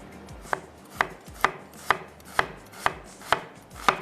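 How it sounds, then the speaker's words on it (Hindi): A knife chops a medium-sized onion on a board in steady, evenly spaced crisp strikes, about two per second, close and clear with no talking. "मैं नाइफ ले लेती हूँ और प्याज को चॉप कर लेते हैं।"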